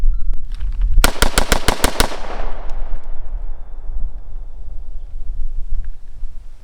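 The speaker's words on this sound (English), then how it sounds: "so I accidentally fired 7 there, no problem" Rifle fitted with a POF 4.5 lb trigger fires seven rapid, evenly spaced shots in a sharp, loud burst, followed by a long echoing decay with no other sound.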